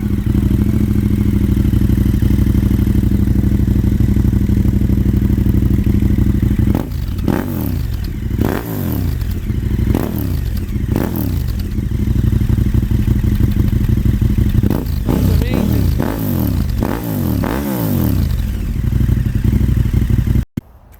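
KTM 1290 motorcycle engine fitted with a Delkevic exhaust, idling loudly with a steady low rumble, then revved in a series of sharp throttle blips that rise and fall, close up with no talk.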